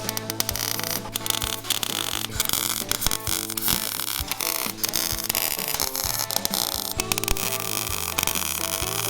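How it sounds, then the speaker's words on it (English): Welding on a piece of equipment in a workshop, with a continuous loud crackling, buzzing hum broken by sharp irregular sputters and scrapes, close and unbroken for the whole stretch with no talk. "Since Ernie is blind as bat, can't see, I'm gonna weld it"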